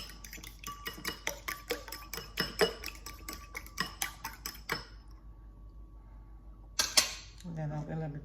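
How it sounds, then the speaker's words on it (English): An egg mixture for a yoghurt blueberry cake is whisked by hand in a bowl, giving a quick run of light metallic clinks and taps that stops after a few seconds, followed by a brief clatter. "So I'm going to be giving that a whisk."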